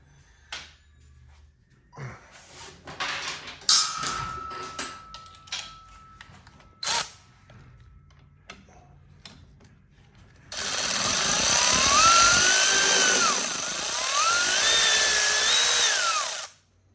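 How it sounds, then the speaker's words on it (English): A few clicks and metallic taps come first, then a power tool whirs loudly and steadily for several seconds while removing a Gilroy Indian PP100 cylinder, its pitch rising and falling, before it stops. "use my power tool for that"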